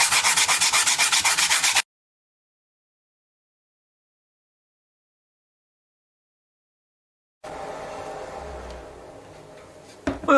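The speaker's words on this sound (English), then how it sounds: "Now we'll do a little bit of sanding and just see if that changes the look." Sandpaper rubbing across a laser-cut piece from a K40 laser cutter, a short loud scraping burst, then a long silence, then softer steady rubbing with a few sharp taps near the end.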